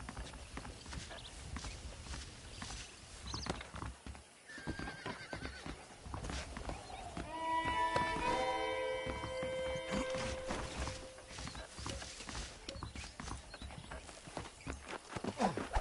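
Horses in a Red Dead Redemption western game scene gallop with continuous hoofbeats, and a loud neigh and whinny rises midway over the clatter of the ride.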